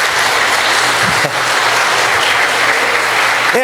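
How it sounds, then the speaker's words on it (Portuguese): A church congregation breaks into loud, sustained applause for the Lord. The clapping is dense and continuous, filling the hall throughout. "Você pode dar uma salva de palmas para o Senhor"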